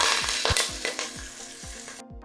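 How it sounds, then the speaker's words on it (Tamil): Chopped onion, green chilli and curry leaves sizzle in hot oil in a pressure cooker, a steady frying hiss broken by repeated scraping strokes of a ladle stirring, close and moderately quiet, cutting off abruptly at the end. "வெங்காயம் நல்லா வதங்கட்டும்."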